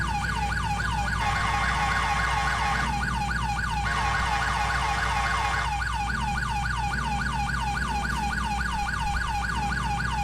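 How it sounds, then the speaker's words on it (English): Police sirens in GTA IV wail continuously from an unmarked NYSP 2011 Tahoe, a fast yelp alternating with a slower wail, loud and close over a steady engine and road rumble. "but people are just ignoring my freaking sirens."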